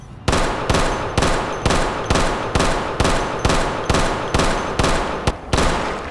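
Gunfire from a gun in Project Zomboid: a rapid string of about a dozen loud, sharp shots at a steady, evenly spaced rhythm, each with a short ringing tail, heard alone without talk.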